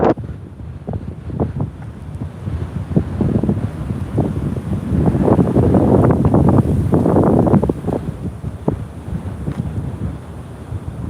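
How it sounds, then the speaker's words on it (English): Gusty wind buffeting the microphone, a broad low roar that swells louder in the middle and then eases, with no voices. "You probably just hear the wind blowing."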